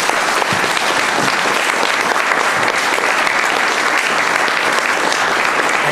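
An audience at a lecture on the Doctrine of Discovery breaks into loud, sustained applause, a dense, even wash of clapping with no talking.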